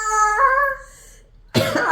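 A person with a cough during rainy weather lets out one sharp, close cough at the end, after a brief sustained tonal note fades.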